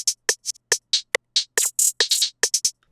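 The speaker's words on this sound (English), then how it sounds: "I used the vinyl preset and I used the reverse preset, and altogether it's gonna make it sound like this." Trap hi-hats processed with Effectrix vinyl and reverse presets, a quick stuttering run of crisp ticks and short swelling reversed hits in an irregular pattern, loud and close with no talk.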